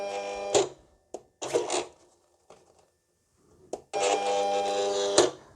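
A roll of vinyl is fed through a roll feeder into a vinyl cutter: a few short, close rustling and clicking bursts, then a steadier mechanical whirring stretch near the end.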